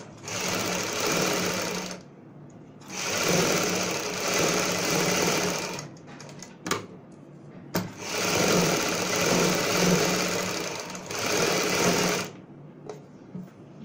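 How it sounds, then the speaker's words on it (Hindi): A sewing machine stitching the inner side of palazzo pants runs in several bursts of rapid steady whirring, each a few seconds long, separated by short pauses with small clicks and handling noises. "अंदर की साइड हम यहाँ पे सिलाई लगाएंगे"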